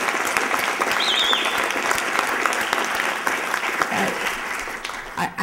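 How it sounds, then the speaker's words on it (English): Warm, sustained applause from a conference audience for panelists on funding women, many hands clapping densely and evenly, with faint crowd murmur and a brief whoop mixed in before it thins out. "Please help me give them a real warm applause for them."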